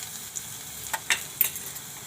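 Cumin, cloves, cinnamon pieces and ginger-garlic paste frying in hot oil for a cashew-potato curry make a steady soft sizzle, broken by a few brief stirring scrapes and clinks close by.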